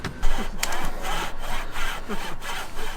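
A hand saw cuts through the wooden frame of a sofa bed being trimmed for a campervan bed, close and loud, with steady back-and-forth rasping strokes in a regular rhythm and no talking.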